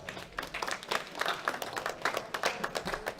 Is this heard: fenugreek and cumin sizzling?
no